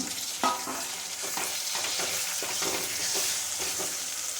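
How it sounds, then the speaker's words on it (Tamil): Steady sizzling of tomatoes, onion and garlic frying in hot oil for fish curry, with occasional scraping and stirring clatters throughout, fairly close and continuous. "வெங்காயம், பூண்டு இந்த மாதிரி நல்லா வதங்கி வந்த உடனே இது கூட தக்காளி சேர்த்துருவாங்க"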